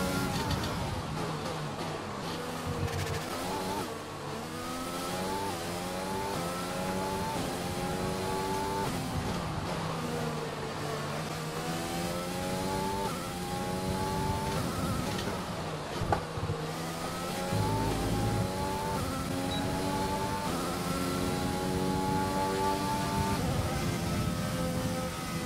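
F1 race car lapping in the video game F1 2020 at the Italy training session, a loud high-revving engine climbing through repeated gear shifts, steady and close throughout.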